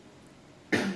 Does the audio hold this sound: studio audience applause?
no